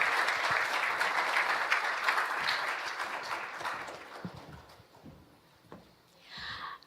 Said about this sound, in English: another warm round of applause for the President of the Philippines